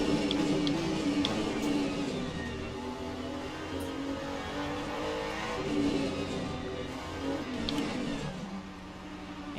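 A race car in Le Mans Ultimate, running on worn tyres at Sebring, drives steadily into the pits, its engine a continuous mid-pitched drone with a faint whir, sustained and fairly loud throughout with no talking.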